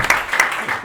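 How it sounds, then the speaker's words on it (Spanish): Audience applause for a comic editor at a talk on comic scriptwriting in Spain, a brief burst of clapping heard for under a second. "Un aplauso para Vicente."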